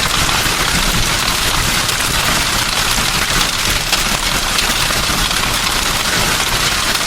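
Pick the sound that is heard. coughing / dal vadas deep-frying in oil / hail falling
hail falling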